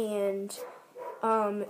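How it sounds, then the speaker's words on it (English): A dog barks and yips indoors in short bursts, partly overlapping a man's speech that carries on at a moderate level. "I'm sorry about the barking"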